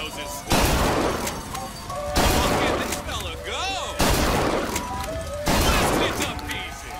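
Gunfire in Bioshock Infinite, with four loud, close shots spaced about one and a half seconds apart, each followed by a ringing tail and clattering game effects, with talk over it.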